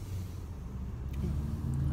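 Steady low rumble from inside a moving car at night, a continuous engine and road drone filling the cabin with no voices, constant and close throughout.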